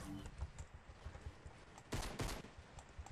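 Gunfire in the video game Fortnite comes through as two short, sharp bursts close together near the end, faint and somewhat buried under a busy game background.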